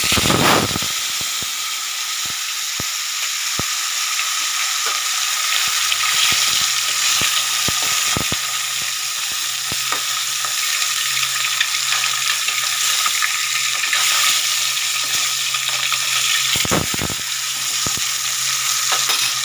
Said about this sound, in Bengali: মাছটা আমি ভালো করে ভেজে নিই, দুটো মাছই ভালো করে ভেজে তুলে দেবো।